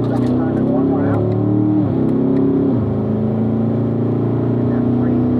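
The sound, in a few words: Corvette engine revving on race track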